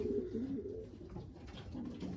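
Racing pigeons coo in a loft, a low, soft, continuous warbling murmur of overlapping calls close by, with no talking over it.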